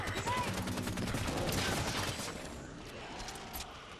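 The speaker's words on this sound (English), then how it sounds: "let's keep shooting this thing" Gunfire in the Halo 5: Guardians shooter game, a dense, rapid burst of automatic shots that fades after a couple of seconds into lighter scattered firing and game effects, fairly quiet overall.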